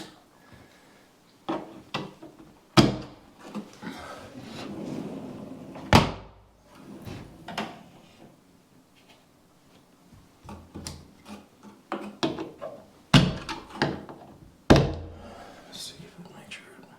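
A pocket door with soft-close hardware is slid shut and its latches are fastened during installation, giving a series of sharp knocks and thunks spread over the stretch. Quiet talk comes and goes between the impacts.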